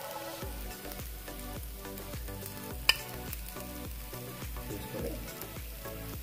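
Fish sizzles and crackles steadily in hot oil in a pan, close and loud, with soft stirring scrapes and one sharp clink, no talking.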